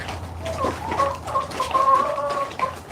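Several chickens cluck and murmur close by while feeding, a busy, continuous chatter of short calls.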